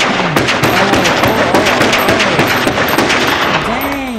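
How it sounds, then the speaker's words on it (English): Rapid, loud gunfire from a Reservoir Dogs film scene, a dense burst of sharp shots with ricochet-like whines and echoes running continuously for several seconds. "Good shot, Orange"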